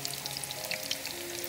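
Young jackfruit pieces fry in hot oil with a steady, close, crackling sizzle and scattered pops throughout, no voices.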